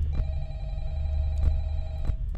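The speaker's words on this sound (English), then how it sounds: "pick up the phone quick" A telephone rings in the Five Nights at Freddy's video game, with about three electronic ring pulses over a low hum, heard alone without talk.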